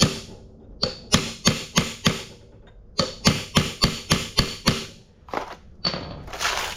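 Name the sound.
hammering to flatten crowned sickle bar part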